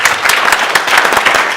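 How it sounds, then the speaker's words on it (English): Audience applause during a keynote Q&A session, a short steady burst of many hands clapping with no talk over it. "Can we give them a round of applause"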